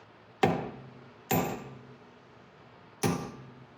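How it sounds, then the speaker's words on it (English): Three sharp metallic strikes of a pointed punch driving a divot into a 2004 Honda Accord axle nut, spaced unevenly, each ringing briefly and decaying, close and fairly quiet against a quiet workshop background. "you just punch a divot right here into this slot"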